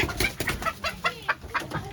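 Desi rooster and hens on a small backyard poultry farm, a quick run of close, rhythmic clucks repeating several times in under two seconds, with no talk.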